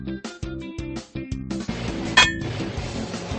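In a Paw Patrol video game, wind chimes clink and clang in a rapid, bright series of metallic hits over light background music, with one sharper ding near the end.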